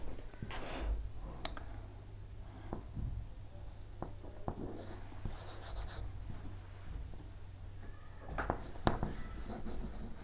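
Pen scratching over paper while geometry theorem notes are written, heard as intermittent strokes and clicks with short pauses, fairly quiet against a faint background hum.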